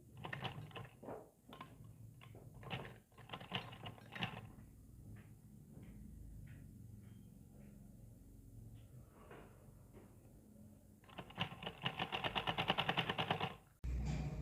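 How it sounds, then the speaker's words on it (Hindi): A sewing machine stitches a belt onto a six-panel petticoat, running in a faint, steady close-up whir with short stop-and-start bursts and light handling clicks. "पूरी वहाँ तक सिलाई लगानी है, तो हमारी पेटीकोट की बेल्ट लग जाएगी ऊपर से"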